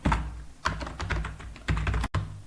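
Close computer keyboard typing as C code is written, a quick run of crisp key clicks in uneven bursts with heavier thunks between, no speech over it.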